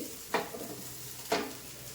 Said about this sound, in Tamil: வெங்காயம் வரமிளகா கருவேப்பிலை எல்லாத்தையும் போட்டு நல்லா வதக்கி விடும்